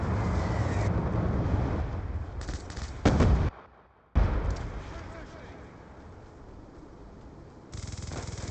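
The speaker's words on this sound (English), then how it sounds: "Friendly Hellstorm missile inbound." Hellstorm missile strikes in a video game bring a steady, heavy roar of explosive rumble, broken by a sharp louder burst, a brief drop to near silence, then more booming that swells again at the end.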